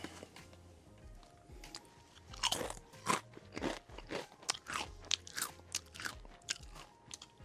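Crunching and chewing on coffee-flavored Doritos tortilla chips, a run of close, sharp, crackly bites and chews that come irregularly, quiet between bursts, with no talking.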